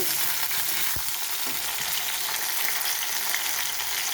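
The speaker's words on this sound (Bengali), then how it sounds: "এইভাবে সবজিগুলোকেও কিছুক্ষণ নেড়ে চেড়ে নেব।" Mixed vegetables fry in a pan for a vegetarian medley, giving a steady, loud sizzle with one sharp clack of a utensil near the start and soft scraping strokes running underneath.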